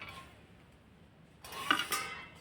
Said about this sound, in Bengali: তেলটা আমি ভালো করে নাড়িয়ে নিলাম